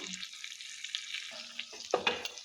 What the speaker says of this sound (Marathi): मी तर ह्याला दोन मिनटं असंच परतायचं